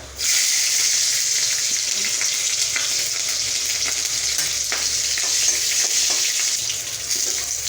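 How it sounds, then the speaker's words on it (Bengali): Mustard seeds and green chillies hit hot mustard oil in a pan and sizzle steadily from start to finish, a loud, bright, crackling fry with scattered small pops up close. "তেলটা গরম হয়ে গেছে এখন দেবের মধ্যে সর্ষে ফোড়ন আর দেবো চারটে কাঁচা লঙ্কা"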